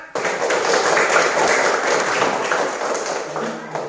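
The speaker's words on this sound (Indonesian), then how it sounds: "Kita beri tepuk tangan untuk kelompok 4." Classmates give a group of students a round of applause, a steady wash of many hands clapping at moderate loudness for several seconds before it fades, with faint voices in the room.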